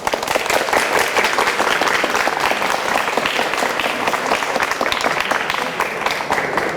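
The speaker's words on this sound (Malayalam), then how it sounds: "ഒന്നുകൂടി കൈയടിച്ചാൽ നോക്കട്ടെ." Sustained audience applause at a Malayalam comedy game show, dense steady clapping filling the whole stretch with crowd noise beneath, loud and close throughout.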